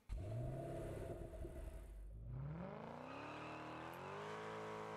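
Car engine in Test Drive Unlimited Solar Crown revving and accelerating, pitch climbing through gears with a shift near the middle, loud and close, steady engine drone throughout.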